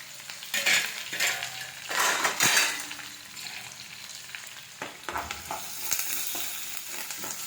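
Green chilies, onion and curry leaves frying over high flame, with loud bursts of sizzling crackle and stirring scrapes at the start that ease into a softer steady hiss, with no voices.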